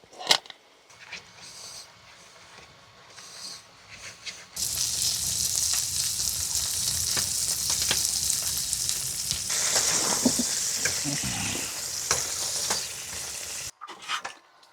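Asparagus frying in butter with salt and pepper in a pan inside a hot tent in winter: quiet clinks at first, then a steady sizzle swelling with stirring scrapes before cutting off abruptly near the end.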